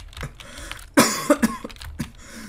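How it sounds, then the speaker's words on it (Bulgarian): One person with a two-week-old cough coughs in a short burst of several harsh, close coughs, with the strongest one in the middle and quieter throat sounds before and after. "от две седмици кашлям като идиот."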